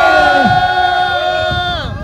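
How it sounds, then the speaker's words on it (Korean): Rally crowd at a residents' protest gathering over the GTX-B railway project lets out a loud, sustained collective shout lasting about two seconds, with voices rising and fading together. "자, 다같이 함성! 발사!"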